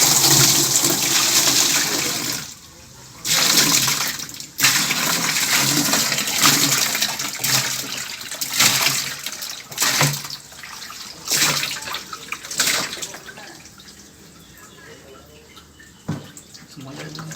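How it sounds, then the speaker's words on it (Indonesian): Fish and water are poured into a simple homemade aquaponics container built from recycled items, producing loud, close splashing and gushing that runs in long stretches broken by brief pauses. "kita langsung saja masukkan ikan yang telah saya tunjukkan tadi ke dalam wadahnya"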